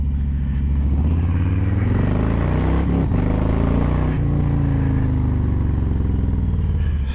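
A motorcycle on a short test ride after the snow has melted rumbles loudly and close, its engine note climbing and falling through gear changes in a steady, unbroken drone.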